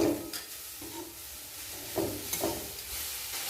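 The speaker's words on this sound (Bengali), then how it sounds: "এরপর নাড়াচাড়া করে নারকেলের ছৌ তৈরি করে নেব।" Grated coconut and powdered jaggery being stirred in a pan over heat, a soft scraping with a faint hiss and a few brief louder strokes, no voices.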